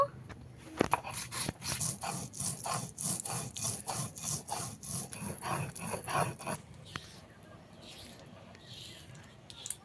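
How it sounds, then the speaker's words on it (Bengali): Cumin being ground on a grinding stone, making fast rhythmic back-and-forth rubbing strokes, loud and close for several seconds before the grinding stops and only faint background remains. "জিরে আমি মিহি করে বেটে নিয়েছি"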